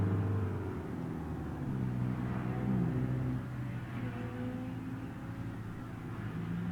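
Distant race car engines whine and rumble continuously in the game BeamNG.drive, pitches sliding up and down like cars circling a track, with no talking.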